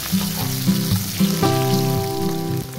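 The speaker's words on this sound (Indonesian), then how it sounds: "Kemudian kita tumis bawang merah kira-kira 6 siung. Kita tumis sampai wangi." About six shallot cloves sizzle steadily in a little cooking oil as they are sautéed, a close, continuous frying hiss under some steady background music.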